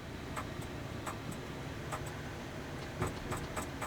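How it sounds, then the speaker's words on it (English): Soft, sharp clicks from the brake-interlock locking mechanism of a 2020 Chevy 3500 6.6L gas V8's gear shifter as it comes out of gear, a few irregular ticks close by over a low cabin hum. "the locking mechanism, when you put your foot on the brake to take this out of gear"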